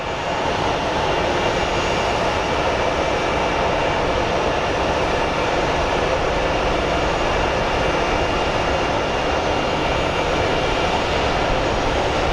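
Airliner engines roaring steadily at Phoenix Sky Harbor International Airport as a jet lines up for departure, a loud continuous broadband rumble and whoosh with no breaks or voices.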